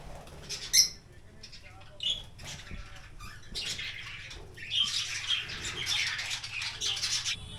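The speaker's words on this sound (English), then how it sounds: "There are birds around." Birds squawk and chirp in short, scattered bursts, moderately close, with quieter rustling between calls.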